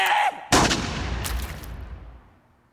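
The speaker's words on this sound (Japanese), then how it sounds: "銃声。" A loud gunshot effect in an anime episode, a sharp close blast that cuts off a preceding tone and then rolls into a long fading rumble and echo.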